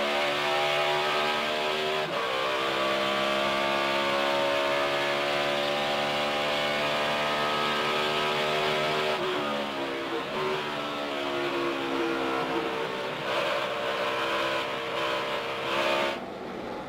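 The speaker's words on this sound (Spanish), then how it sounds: "se escucha cómo es un poco, cómo modula el acelerador Dale Earnhardt Jr. al salir de la curva tras colocar la tercera marcha" A NASCAR stock car engine at the 2011 Pocono race, driven by Dale Earnhardt Jr. in third gear, revs loud and sustained as the throttle is modulated exiting a corner, pitch dipping and climbing in a continuous whining drone.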